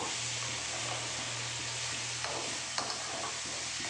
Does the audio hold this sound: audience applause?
no